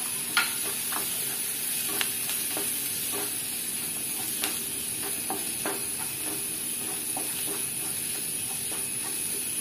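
Chili and turmeric powder frying with onions in a pan for a Kerala-style snake gourd curry, a steady close sizzle and hiss with light scrapes and taps of stirring throughout.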